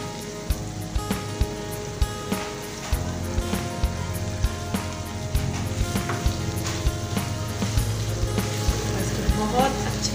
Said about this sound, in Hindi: इसे बहुत अच्छे तरीके से भुनाई करेंगे।